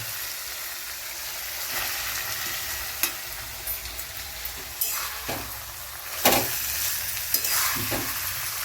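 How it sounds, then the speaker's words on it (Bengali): Chopped cabbage stir-frying for vegetable chow mein, a steady loud sizzle in the pan broken by scraping, clattering stirring strokes. "এবার এর মধ্যে আমরা কুচনো বাঁধাকপিগুলোকেও এর মধ্যে দিয়ে দেবো।"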